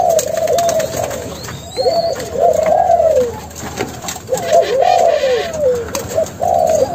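A Malaysian spotted dove coos close by, repeating soft, rolling calls in a steady rhythm with brief gaps between phrases.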